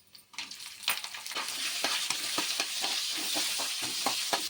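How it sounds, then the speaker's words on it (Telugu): Chopped onions hit hot oil already holding black gram dal and cumin seeds, giving a close, steady frying sizzle with crackling pops and a few stirring scrapes throughout. "ఇప్పుడు కట్ చేసిన ఉల్లిపాయలు వేసుకోవాలి."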